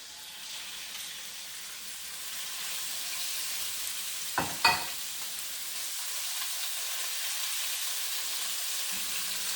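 Beef for a beef and bell pepper stir fry sizzles in a pan with a soft, steady hiss. A couple of sharp spits or clicks cut through midway, and no one speaks.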